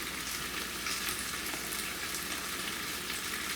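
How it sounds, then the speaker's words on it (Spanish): Dried guajillo and ancho pasilla chiles simmering in a small pot of boiling water, giving a steady, even bubbling hiss that continues without a break, fairly quiet and close, with no voices. "aquí en esta ollita con agua que ya está hirviendo, voy a agregar aquí los chiles guajillo junto con el chile ancho pasilla"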